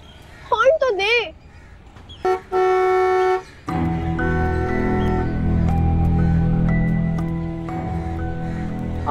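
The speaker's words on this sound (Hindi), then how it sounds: "हॉर्न तो दे।" A car horn blares in one long sustained honk, then more horns and traffic noise follow amid busy street sounds, with voices around.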